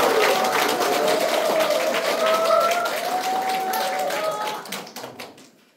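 A crowd at a Democratic Party provincial committee launch ceremony applauds loudly, with close sharp claps and some raised voices, holding strong before thinning out into a few scattered claps at the end.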